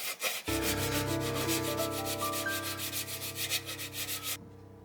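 Putty on a U.S.S. Reliant model starship is sanded with quick, even back-and-forth strokes, close and alone, before ending abruptly.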